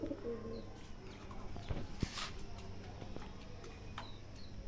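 Soft, low cooing of fancy pigeons repeats under a steady background hum, with a few faint chirps and light knocks scattered through.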